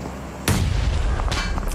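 A grenade blast in PUBG Mobile during a World Cup esports match: a sudden deep boom about halfway in, its rumble carrying on for a second, with a second smaller burst near the end.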